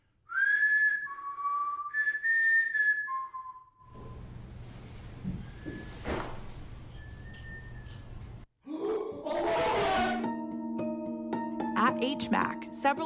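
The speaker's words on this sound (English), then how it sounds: "you can hear someone or something whistle back at them." Clear melodic whistling, several rising and falling notes up close, then a noisy stretch with faint whistles, followed by a burst of sound and sustained tones.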